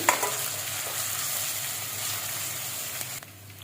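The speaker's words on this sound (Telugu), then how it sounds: "కట్ చేసుకున్న క్యాప్సికమ్ వేసుకుంటున్నాము" Chopped capsicum sizzles and fries steadily in a hot pan for a capsicum-tomato curry, with stirring scrapes over the constant hiss. The sizzle stays loud and continuous, then drops off slightly near the end.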